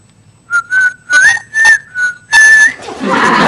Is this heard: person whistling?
yes